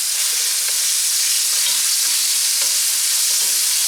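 Steady, loud sizzling of chicken pieces frying in hot coconut oil at moderate temperature, a continuous crackling hiss with occasional pops and stirring, no voices.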